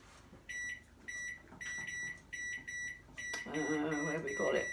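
A new microwave oven beeps repeatedly as its timer is keyed in, a run of short electronic tones in quick succession and then a longer chime, with a voice talking quietly in between.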